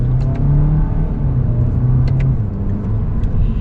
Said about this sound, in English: let's get our acceleration and see how it performs